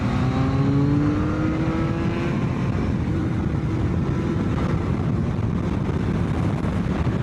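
A BMW K1300R motorcycle accelerates hard to overtake a car, its engine note climbing steadily in pitch under heavy wind roar. The sound is loud and close, with no voices.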